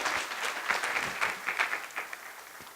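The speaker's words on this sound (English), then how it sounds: "Let's give him a big applause." Brief, light applause from an audience at an Indian Independence Day celebration welcomes a speaker, a soft patter of individual claps that quickly thins out.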